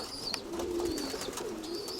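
Pigeons in a loft give soft, low rolling coos, close and continuous, with a few faint higher chirps overhead and no talking.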